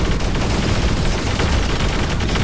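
Dense, continuous bursts of futuristic weapon fire from giant robots in the PC game War Robots, a loud, unbroken barrage of rapid shots and booms without any pause.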